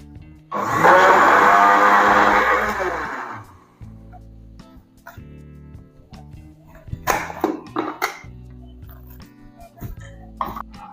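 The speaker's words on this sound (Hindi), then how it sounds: "इसीलिए ग्राइंडर जार में डालकर 30 सेकंड के लिए ग्राइंड कर लें" A grinder jar whirs loudly for about three seconds as it grinds tikka masala spices, then cuts off, followed by quieter clattering and handling knocks.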